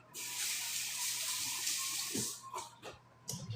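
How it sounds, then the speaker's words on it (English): A kitchen tap runs in a steady, close stream as a knife is rinsed under it. The water then cuts off, leaving a few drips and soft handling clatter, with no voices. "let me rinse my knife."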